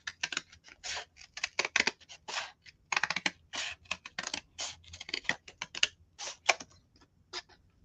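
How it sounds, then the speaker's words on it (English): Scissors cut through thick cardboard in a rapid run of crisp, dry snips and crunches, close and fairly loud, with no talking. "Cutting that thick cardboard with those damn scissors"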